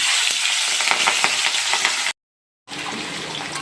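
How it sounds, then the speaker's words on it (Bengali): Tengra fish frying in hot oil in a wok, a loud, close, crackling sizzle with sputtering pops that cuts out briefly to silence, then resumes. "কড়ার তেল কিন্তু গরম হয়ে গেছে এবার ট্যাংরা মাছগুলো ভেজে নিচ্ছি"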